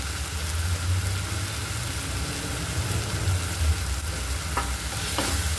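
Masala for dum aloo with coriander leaves roasts in a pan with a constant, close sizzling hiss. A low scraping of stirring runs underneath, with a couple of faint clinks near the end.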